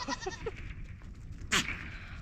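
A goat bleats in a short wavering call of several pulses, close by, followed by a sharp brief noise, with no talking.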